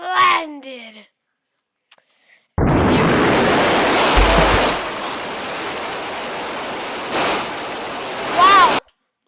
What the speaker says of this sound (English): Nice splash effects.